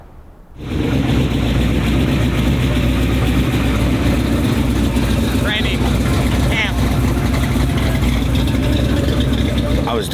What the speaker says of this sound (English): I was trying to get the engine warmed up, dude.